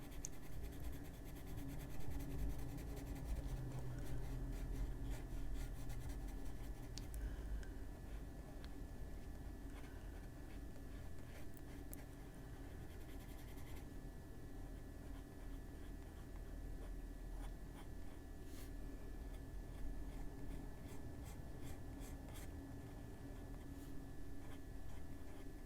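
Pencil shading on paper, a steady, continuous scratchy graphite rubbing close up, with strokes running throughout at an even, moderate level and no voices.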